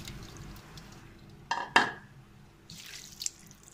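Pieces of raw beef are rinsed in water in a kitchen, with dripping and splashing, a couple of sharper splashes in the middle, and a soft run of water near the end.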